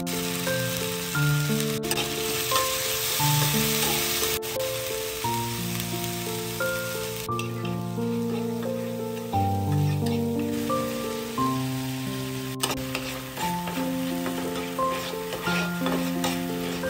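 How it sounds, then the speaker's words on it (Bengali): Spice paste with salt, turmeric and chilli powder sautéing in hot oil for a vegetarian paneer dish, a steady close sizzle and stirring running throughout beneath prominent background music. "এরপর মশলার যে পেস্টটা তৈরি করা হয়েছিল সেটা তেলের মধ্যে দিয়ে ভালো করে কষিয়ে নিতে হবে।"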